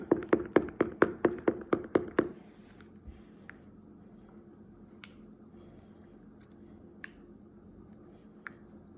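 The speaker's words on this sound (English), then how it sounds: "And give it a fierce stir." A spoon stirs cocoa powder briskly into milk in a mug for keto/paleo hot chocolate: about ten quick, bright clinks in a steady rhythm for two seconds, then near silence with a few faint, scattered taps.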